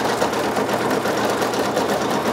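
Brother embroidery machine, a PRS 100 or SE 625 multi-needle or home model, stitching an order: a steady, fast, continuous mechanical whir and rapid needle clatter, close and alone with no talking.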